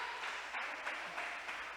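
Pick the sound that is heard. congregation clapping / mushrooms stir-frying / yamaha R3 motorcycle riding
congregation clapping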